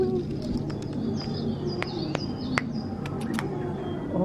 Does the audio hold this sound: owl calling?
yes